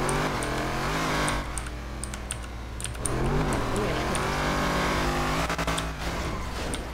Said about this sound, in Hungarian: Várj, túl hangos a motor.